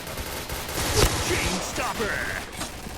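Sustained gunfire held down in a video game shooter, a dense crackling burst of rapid shots over about three seconds, close and loud, with a voice speaking over it.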